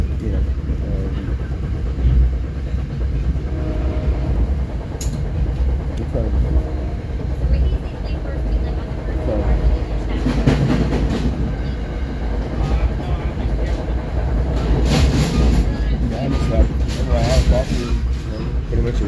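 A train rolling past during a train hopping trip, a loud continuous low rumble with rattling and clanking of cars, while people talk over the noise.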